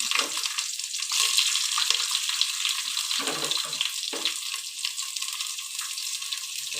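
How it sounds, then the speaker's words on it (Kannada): Onions sizzling steadily in hot oil for a red mutton sambar, with kasuri methi already in the pan; a continuous bright crackle with a few soft stirring knocks, close and unbroken, no voices. "ಈರುಳ್ಳಿನ ಚೆನ್ನಾಗಿ ಫ್ರೈ ಮಾಡ್ಕೊಳ್ಳಿ"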